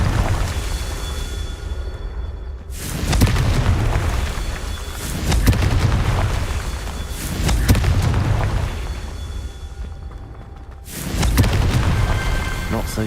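Repeated deep booming blasts from the Confringo fire spell in Hogwarts Legacy, several heavy explosions spaced a few seconds apart with rumbling tails between them.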